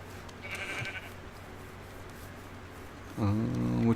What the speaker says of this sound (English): Like a ton of sheep just loaded in.